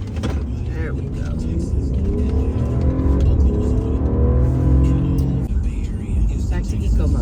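A car accelerates after being switched into sport mode, its engine rumble rising and swelling in pitch under someone talking throughout.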